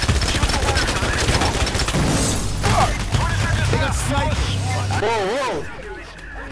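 Gunfire in the video game Payday The Heist while shooting wires, a dense burst of shots mixed with game noise, music and voices, with people talking throughout.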